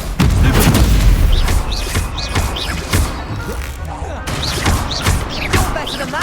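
Confringo explosive spell blast in the Hogwarts Legacy video game, loud booming hits and sharp crashes repeating over busy combat noise while a person talks.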